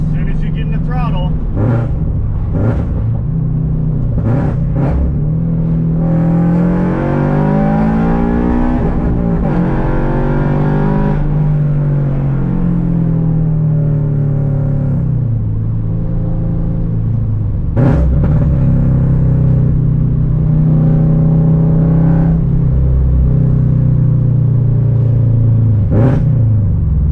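A Toyota GR86 fitted with aftermarket over pipe and front pipe exhaust parts, heard from inside the cabin with the windows down as the engine swells and drones under throttle before easing back, with occasional speech over it.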